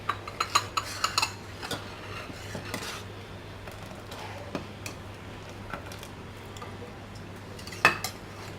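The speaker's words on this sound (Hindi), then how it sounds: "अब इसको अच्छी तरह मिक्स कर लेंगे पहले।" Pistachios and almonds being mixed in a bowl, with light clinking and ticking of nuts and utensil against the dish, clustered early and late over a low steady hum, faint.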